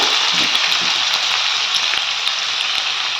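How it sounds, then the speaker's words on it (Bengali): Potatoes frying in a pan in a home kitchen, a loud, constant close sizzle and crackle with small pops scattered throughout. "আলুগুলো একটু ভেজে নেব"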